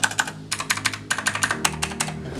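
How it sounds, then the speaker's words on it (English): Crisp, clicky typing on a Sades half-size mechanical gaming keyboard with blue switches, rapid bursts of keystrokes close up and loud, with a short pause between flurries and no talking. "So the main things about this keyboard are it's mechanical. As you can hear, like it sounds pretty crispy,"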